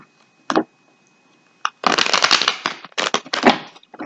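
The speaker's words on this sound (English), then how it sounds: "These cards don't want to shuffle." Tarot cards shuffled by hand nearby, two brief riffles first, then a longer run of crisp, loud riffling bursts that stutter and restart.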